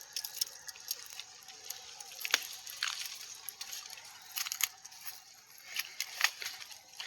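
Water trickling through an orange orchard: faint, thin splashing and dripping with irregular small bursts and clicks, quiet and close, with no voices.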